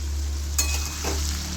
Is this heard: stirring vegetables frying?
yes